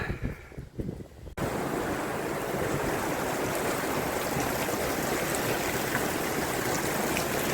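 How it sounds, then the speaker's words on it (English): Steady heavy rain on a beach begins abruptly after a quieter moment, then pours as a constant dense hiss without letting up. "This is the first decent rain for months."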